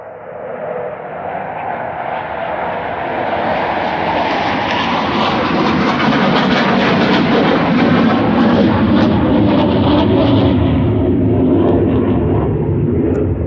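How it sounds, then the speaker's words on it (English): A jet airplane passes overhead, a broad roaring rumble that swells louder over several seconds and holds steady near its peak without fading, with no one speaking. "a jet's flying over."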